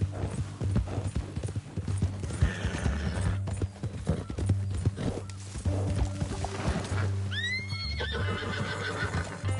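Video game horse hooves clip-clop steadily at a walking pace in Red Dead Redemption, with a horse whinnying near the end over faint ambient background.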